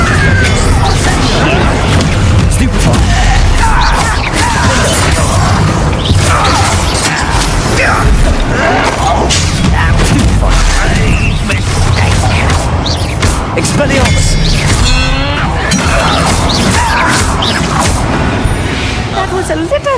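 Confringo and Accio spells cast in Hogwarts Legacy give dense, continuous magical blasts, crashes and whooshes, loud and busy throughout, with a voice speaking the spell names over the combat.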